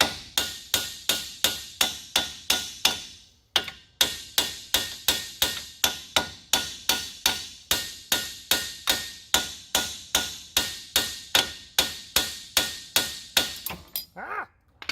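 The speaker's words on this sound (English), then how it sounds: "I'm not hitting it very hard, just tap it." Rapid, steady hammer taps on the metal strut of a 2008-2011 Ford Focus, about five per second, loud and close, with a brief pause partway through and no talking.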